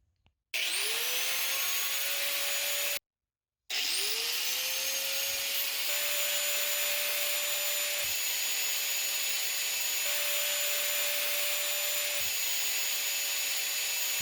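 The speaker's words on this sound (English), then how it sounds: "I run the angle grinder a certain amount of distance away from a phone" An angle grinder runs steadily at a distance from the recording phone, a loud continuous whine with a high tone that rises as the motor spins up, cut off once by a brief gap before it restarts.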